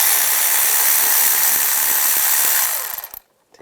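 Ratchet fitted with a 10mm socket loosening a ground wire bolt on a 1996-2002 Toyota 4Runner, giving a steady run of close metallic clicking that stops abruptly near the end.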